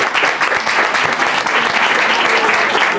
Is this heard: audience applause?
yes